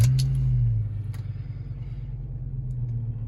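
A Fiat Stilo Abarth hot hatch engine fires with a loud, close roar that quickly drops into a steady, throbbing low idle.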